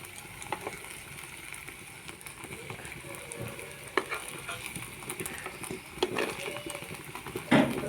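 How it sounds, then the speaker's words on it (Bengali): Palm fruit fritters frying in hot oil in a pan, a steady soft sizzle with occasional sharper pops and utensil scrapes as they are turned. "এবার সব বড়াগুলো উল্টে দেবো ও পিঠটা ভেজে নেবো"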